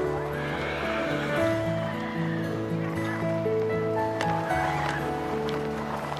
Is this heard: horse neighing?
yes